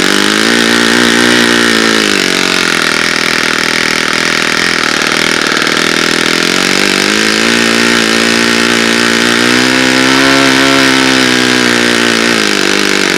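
A small engine running slightly rich runs steadily and loud, with a slightly uneven, burbling idle that rises and dips a little over time, no voices present.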